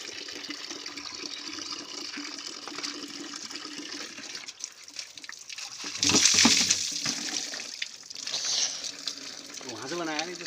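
Cold water pouring and splashing at an outdoor spring or tap, a rushing gush that swells in the middle, with people talking around it.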